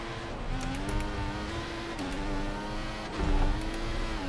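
Formula 1 engine noise from the video game F1 2014, a sustained high-pitched whine that dips and rises again as the car accelerates, loud and steady with no talking.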